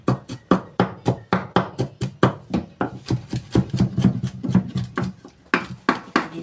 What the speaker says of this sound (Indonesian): ini bawang putih ya, aku cincang ya